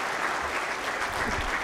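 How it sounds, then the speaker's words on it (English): An audience applauds Karnataka's Minister for IT and BT, Priyank Kharge, with dense, steady clapping that fills the room loudly throughout. "Big round of applause for our Honorable Minister for IT"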